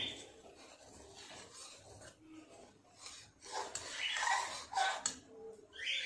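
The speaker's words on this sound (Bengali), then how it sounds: "হাতার পেছন দিয়ে এইভাবে একটুখানিগুলো এইভাবে ছানাগুলোকে একটু ম্যাশ করে নেব" A ladle's back rubs and mashes chhana in a pot of boiling milk, giving soft rasping scrapes that grow louder and busier toward the end, heard close with no talk over them.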